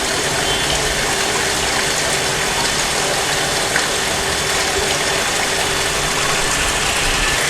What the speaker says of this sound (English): to measure the discharge of the water flowing in this 3/4 inch pipe